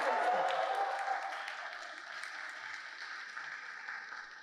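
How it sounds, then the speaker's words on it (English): A theater audience at a museum reading gives steady, full applause throughout, holding at a moderate level and tapering gradually toward the end. "And a round of applause for all of you for sticking with us."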